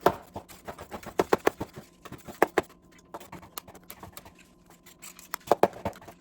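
Knife cutting dried meat strips into small pieces on a board, a series of sharp crisp chops in uneven bursts with short pauses, close and fairly loud, with no talk.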